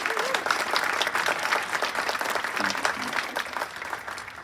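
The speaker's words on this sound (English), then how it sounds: "And a round of applause" A crowd applauds steadily at an apartment complex grand opening, many hands clapping together for several seconds, with faint voices mixed in beneath.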